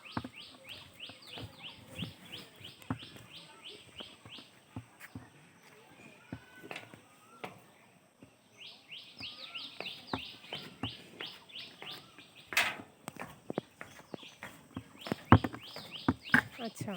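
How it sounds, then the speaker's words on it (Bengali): Morning birdsong in a village on a rainy day, rapid repeated high chirps in bursts from nearby birds, pausing in the middle, with clicks, footsteps and a voice talking over it. "পাখির কিচিরমিচির শব্দ সকাল থেকে হতেই থাকে"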